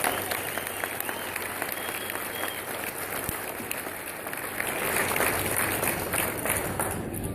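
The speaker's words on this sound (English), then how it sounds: "So how about a big round of applause for everybody who's here today" A crowd claps at a casino resort's grand opening, a sustained, even roar of applause from a large outdoor gathering that holds at a steady level throughout.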